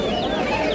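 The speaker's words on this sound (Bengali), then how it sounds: "এইটা কি মুরগি?" Chickens cluck amid other birds at a street bird market selling hens, ducks and pigeons, a brief, close burst of clucking and chirping over busy background noise.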